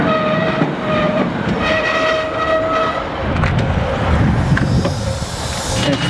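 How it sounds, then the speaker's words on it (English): A train pulls into a station on the West Kirby to Liverpool line with a sustained horn blast, then rumbles and clatters along the track, with some brakes and mechanical noise nearby. "Train's here."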